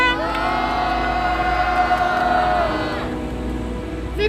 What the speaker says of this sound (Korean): 여러분들의 힘찬 함성과 함께 기자회견 시작하겠습니다